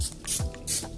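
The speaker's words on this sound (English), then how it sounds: "I'm going to give my hair one last final spray all around." Hairspray hisses from an aerosol can in two short bursts around the hair, close and fairly loud, with a faint click from the nozzle.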